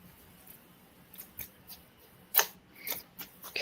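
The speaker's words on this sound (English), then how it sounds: "Grab my paper snips." Paper snips cut card stock for a folded card, giving a few crisp, close snipping clicks spaced irregularly over a quiet background.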